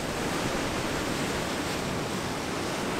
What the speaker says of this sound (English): Waves are really starting to pick up now.